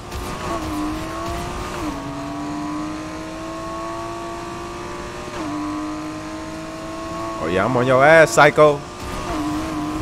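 A Pagani supercar engine in the racing game Need for Speed Heat droning steadily with shifting revs, then a brief sharp squealing surge near the end, with a voice talking over it.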